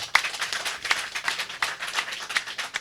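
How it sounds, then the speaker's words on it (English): Clapping for Borough President Melinda Katz at a Pakistan Independence Day celebration in New York, a thin scattering of hands from a small crowd, fairly soft with a few sharper individual claps standing out. "I think she really deserves another round of applause."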